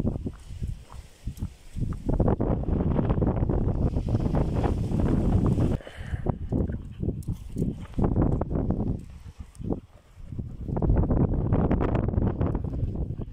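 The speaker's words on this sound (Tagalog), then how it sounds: "Bak mahangin na." Strong gusty wind roars across the microphone, rumbling loudly with brief lulls between heavy blasts.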